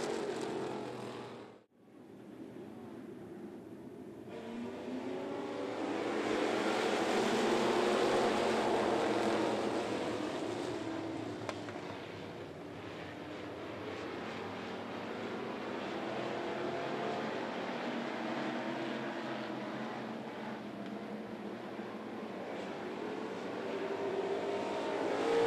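Race cars rumble around Needmore Speedway's oval under caution, a steady broad engine drone that swells and fades as the field circles, with a brief dropout near the start.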